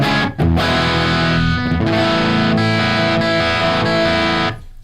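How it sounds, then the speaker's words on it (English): Electric guitar played through a distorted tube amp with 6L6 tubes, a prototype guitar, rings out in loud, thick sustained chords for nearly five seconds before cutting off, with no talking. "the amp's still pushed into distortion"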